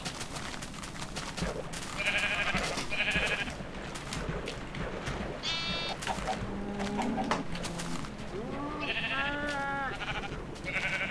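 Sheep bleat in Minecraft, several wavering calls from a herd including a brown sheep, spaced across the stretch over a steady background with faint bird chirps mixed in.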